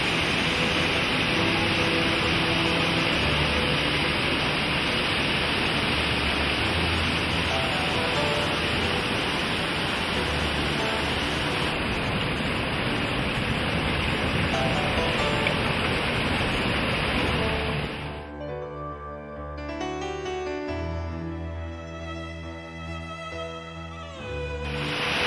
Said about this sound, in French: Le passage des torrents se fait sur des cailloux